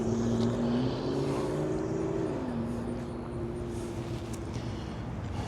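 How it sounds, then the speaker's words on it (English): A BMW M3 with a V8 engine and a loud aftermarket exhaust at a car meet in Charlotte, North Carolina, giving a steady droning rumble with a rising then settling tone, continuous throughout. "This M3 right here is the V8 one. You got a nice exhaust on it."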